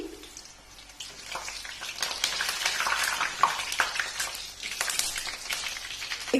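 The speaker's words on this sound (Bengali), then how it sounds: "এক এক করে সয়াবিনগুলোকে আমি এপিট ওপিট করে ভালো করে ভেজে নেব" Soybean chunks frying in hot oil for chilli soya and being turned over one by one, a steady crackling sizzle with soft stirring scrapes, close and moderately loud, no voices.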